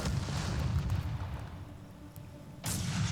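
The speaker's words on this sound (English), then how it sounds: "I think my mortar troops has got them finally." Artillery and mortar fire rumbles through a Company of Heroes 3 battle, a steady low, booming roar that eases off briefly, then returns with a sharp, bright burst near the end.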